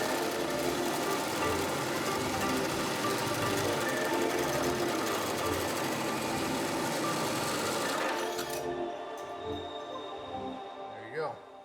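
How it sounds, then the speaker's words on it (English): A drill bores through layered steel of a Fox-body Mustang frame during a mini tub and coilover install, a loud continuous grinding whine that stops abruptly, leaving quieter shop clatter. "you can just go ahead and just continue drilling without that"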